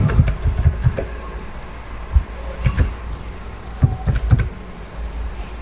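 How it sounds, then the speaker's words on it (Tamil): Fingers typing a username and password on a computer keyboard to log into a web hosting account, heard as irregular clusters of close, fairly loud key clicks with short pauses between bursts. "என்னோட யூசர் நேம் என்னோட பாஸ்வேர்ட் டைப் பண்ணுறேன்."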